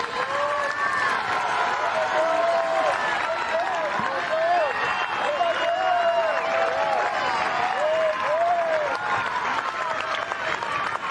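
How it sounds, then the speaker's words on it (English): A golf gallery at the final round of the 2024 acciona Open de España rises to its feet, sustained dense applause and cheering filling the whole stretch while a commentator speaks over it. "The crowds are on their feet."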